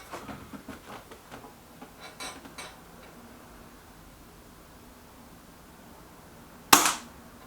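A Reximex Mito S air rifle fires a single sharp, loud shot near the end, after some faint handling clicks and near silence.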